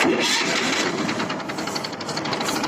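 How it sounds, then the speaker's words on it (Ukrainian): A Prykarpatets mini tractor engine, warmed up, pulls away in its top sixth gear, giving a steady, close, loud mid-pitched running drone with a rhythmic knocking texture and no talk. "Мене люди питають, як рушає з останньої передачі."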